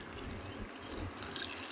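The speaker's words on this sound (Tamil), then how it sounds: "நம்ம நல்லா முங்குற அளவுக்கு தண்ணி ஆட் பண்ணிக்கலாங்க" Water pours steadily into a pressure cooker full of chopped manathakkali greens, with a continuous splashing trickle close by and no talking.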